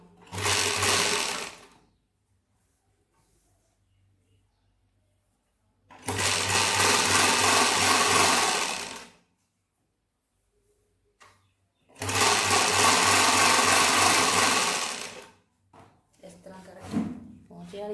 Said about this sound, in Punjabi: ਹੁਣ ਆਪਾਂ ਇੱਥੋਂ ਇੰਟਰਲੌਕ ਕਰ ਦਿੰਨੇ ਆ